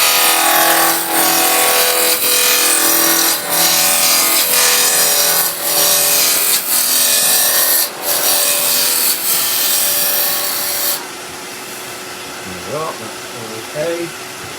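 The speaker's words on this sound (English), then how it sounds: "We're going to use a roughing gouge first, because we can now, we're holding between centres." A roughing gouge cuts tulip wood spinning between centres on a lathe, making a loud, steady, hissing scrape with brief dips as the tool shifts. The cutting stops near the end, leaving only the lathe's quieter hum and a few faint knocks.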